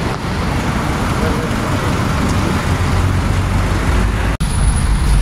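Steady road traffic rumble from inside a moving FX van headed to Antipolo, loud and continuous with dense low-end roar and a brief dropout near the end, no clear voices.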